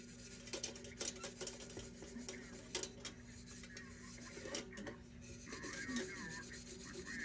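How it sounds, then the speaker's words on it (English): Sandpaper lightly rubbing oxidation off a C.T. Ham No. 0 fireman's lantern with an oval tube: quiet, close scratchy strokes in an irregular rhythm, with faint metallic rasps and no talk. "I'm going really light with this sandpaper, just kind of sampling to see what's happening here."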